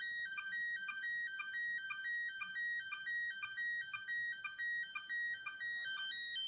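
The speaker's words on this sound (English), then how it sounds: "So that is the sound of slow scan TV." Warbling, stepped electronic tones of a slow scan TV transmission from an AMSAT CubeSatSim satellite simulator repeat in a fast, regular pattern over faint background hiss and continue for the whole stretch, with no voices.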